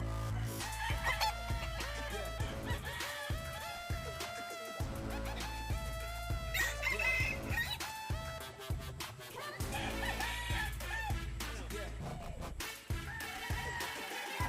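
Backyard chickens cluck and a rooster crows repeatedly over a constant low hum, with music-like tones and busy layered sound throughout, in a provincial Philippine yard.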